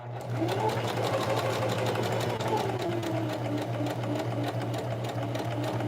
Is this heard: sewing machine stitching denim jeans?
yes